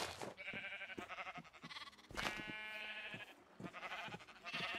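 Sheep in the video game Minecraft bleating repeatedly, a series of loud, nasal, wavering calls in quick succession with short gaps between them.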